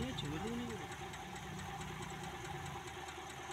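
Small motorcycle engine idling with slightly raised revs, a steady close, knocking mechanical chug throughout, with someone talking over it.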